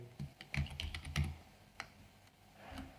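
Typing on a computer keyboard while entering data in Excel: a quick cluster of close, quiet key clicks and taps, then a few sparser strokes with short pauses between them.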